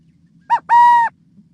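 Male burrowing owl giving a clear two-note call: a short hooting note, then a longer, steady, dove-like coo, close and alone against a quiet background.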